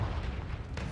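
A Confringo blasting-spell explosion in the video game Hogwarts Legacy: a brief, deep, booming rumble that fills the moment with a loud low-end blast.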